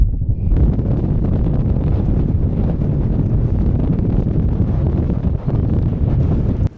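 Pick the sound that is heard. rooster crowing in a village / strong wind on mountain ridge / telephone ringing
strong wind on mountain ridge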